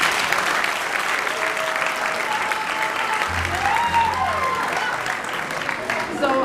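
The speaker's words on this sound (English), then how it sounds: "Can I get another round of applause, please?" An awards-ceremony audience applauds steadily, a dense continuous clapping that fills the whole stretch at fairly close range, with a brief tonal sound and a low hum partway through.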